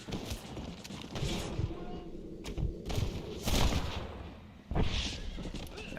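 In the Red Dead Redemption game, a horse's hooves clop while sharp gunshots ring out in a few loud bursts over a busy in-game background of movement and ambience.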